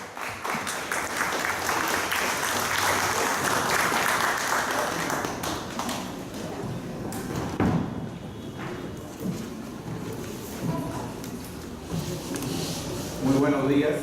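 An audience at a law conference lecture claps loudly to welcome the speaker: dense, sustained applause fills the first half, then fades as voices and room noise take over.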